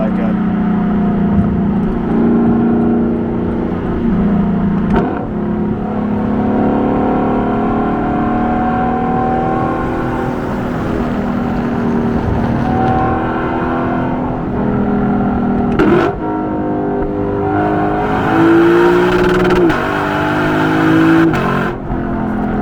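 A Lexus LC500 coupe with its stock exhaust revs its engine, producing loud, sustained harmonic roars that rise and fall close by, with brief sharp bursts near the middle and end.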